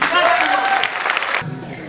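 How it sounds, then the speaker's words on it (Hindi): A brief burst of loud applause from a seated training-session audience, dense clapping that stops abruptly near the end as a voice comes in. "अपने लिए एक बार जोरदार तालियां करिए।"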